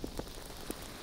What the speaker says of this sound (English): There's fire everywhere